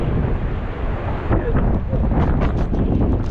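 Strong mountain wind at Bald Knob near Mountain Lake, Virginia, gusting at 45-60 mph, roars loudly and continuously against the microphone with heavy low buffeting.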